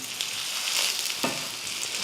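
A dosa sizzles and fries steadily on a hot pan just after being flipped, with oil added on top, a dense continuous crackle filling the clip and a brief soft knock near the middle.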